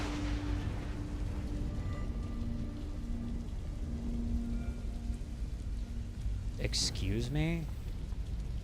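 Rain falling in the video game Observer System Redux, a steady close wash of rainfall with low rumbling, heard under occasional game tones, and a person speaks briefly near the end.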